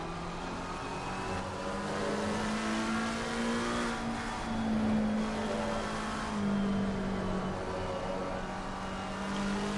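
McLaren race car engine in Assetto Corsa Competizione at Suzuka, a continuous high, buzzing drone whose pitch rises and falls through gear changes, heard alone without talk.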